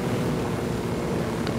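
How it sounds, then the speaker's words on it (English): Steady, loud rotor and engine roar of a helicopter landing in Ghost Recon Wildlands, a dense continuous drone with no talk. "I'm going to land the helicopter."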